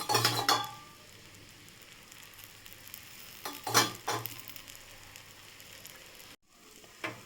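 Dosa batter spread on a hot griddle with oil poured around it, giving a soft sizzle broken by a few sharp bursts of utensil clatter near the start and middle, then a brief silent gap near the end.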